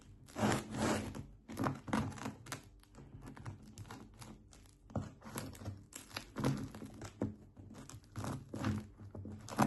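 A bread knife saws through a crusty sourdough loaf, giving repeated crackly, rasping strokes in an uneven rhythm, close up and fairly quiet, with no voices.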